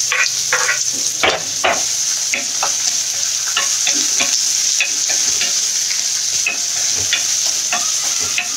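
Finely chopped onion frying in a pan for a Konkan-style chicken dish, a steady close sizzle with repeated sharp scraping clicks of stirring.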